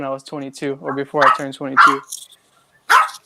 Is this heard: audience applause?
no